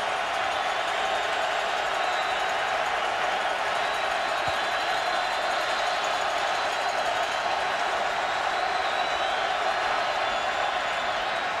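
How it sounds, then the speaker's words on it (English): A dense, steady roar of a large stadium crowd at a UCF at Louisville college football game, many voices blending into a continuous wash of noise without pause. "Now they're saying, hey, we need to create some crowd noise."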